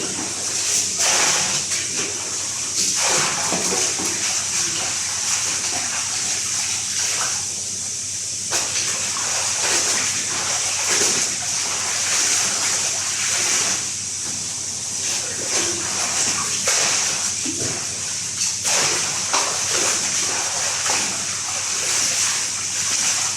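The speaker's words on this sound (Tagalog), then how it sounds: "minamadali ko yung aking paglalaba" Water splashes and sloshes steadily while laundry is hand-washed, with irregular slaps and gushes of wet cloth over about twenty seconds.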